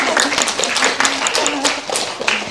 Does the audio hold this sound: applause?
yes